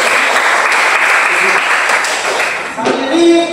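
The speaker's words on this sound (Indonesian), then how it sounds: "Berikan tepuk tangan dulu" Applause fills a classroom for about three seconds, a steady dense patter of many hands, then fades out as a teacher begins talking.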